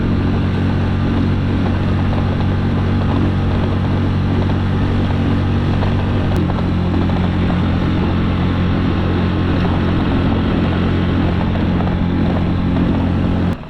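A small portable fishing boat's outboard motor runs at full throttle, a steady loud drone with a slight pitch shift midway, continuous and close throughout.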